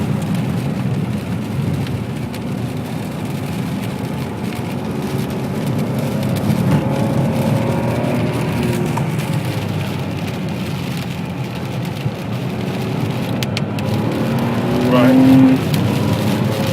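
Ferrari 599 GTB Fiorano with its Enzo-derived V12 cruising on wet countryside roads, a steady low engine drone with tyre hiss throughout and a brief rise near the end, heard from inside the car.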